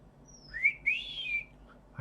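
A garden bird's clear whistled calls, two or three rising and falling notes in quick succession, fairly close against a quiet background.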